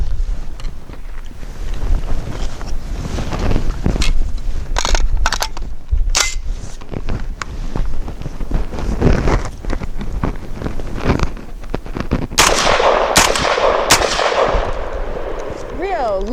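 A Genesis Arms Gen-12 AR-style 12-gauge shotgun fires Rio low-recoil one-ounce slugs at 1,200 feet per second outdoors: several loud, sharp blasts spread across the stretch, with wind buffeting the microphone throughout.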